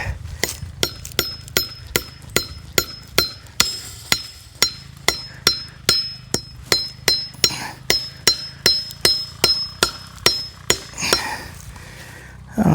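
A hammer strikes a barbed staple into a fence post during barbed wire fence repair, about two dozen sharp metallic blows in a steady, evenly spaced rhythm, close and loud, with a few ringing clinks near the end.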